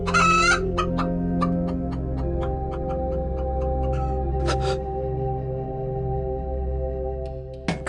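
Chickens cluck repeatedly, close and clear, in an underground stone chamber full of rocks, with a steady low hum running beneath the calls.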